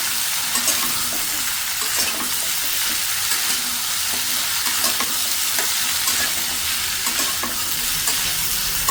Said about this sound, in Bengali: মশলার সাথে আর কি 5 ফোড়ন এর সাথে আমি সবজিটাকে মিশিয়ে নিই।